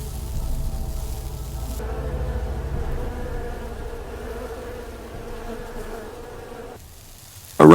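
A dense, steady buzz of many bees fills the air, loud and continuous, with a sharp louder burst at the very end.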